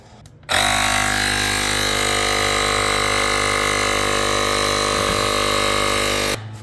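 A battery-powered AstroAI portable air compressor runs while inflating the front tire of a motorcycle, a loud, close, steady whine and buzz that starts abruptly, holds constant, and then cuts off near the end.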